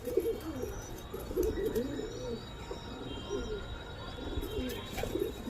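Pigeons coo in low, throaty, repeated phrases close by, mixed with a few light chirps over a soft background murmur, with no speech.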